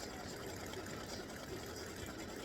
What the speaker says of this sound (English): we're stitching all the black pieces of the male pumpkin guy